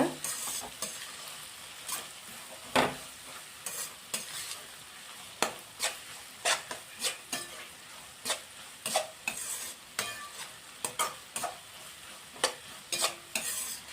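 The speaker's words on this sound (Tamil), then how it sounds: "இதில் சோயா சாஸ் சேர்த்து நல்லா மிக்ஸ் பண்ணி விட்டுக்கோங்க." Chicken fried rice with soy sauce is stirred in a frying pan: steady, rhythmic scraping and tossing strokes over a soft, continuous sizzle, close and fairly loud throughout.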